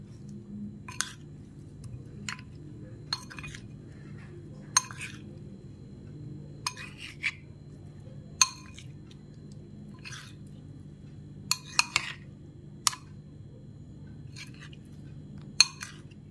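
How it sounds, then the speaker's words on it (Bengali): Paneer tikka being mixed with spices in a bowl, sparse sharp clinks of a utensil against the bowl at irregular intervals, quiet and close over a low steady background hum. "সবকিছু একটু ভালো করে মিশিয়ে নিতে হবে।"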